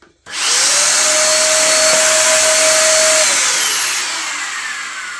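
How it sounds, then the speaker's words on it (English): A repaired Hoover vacuum cleaner switches on and runs loud and steady, a rising whine holding at one pitch before easing down slightly near the end. "I fixed my Hoover!"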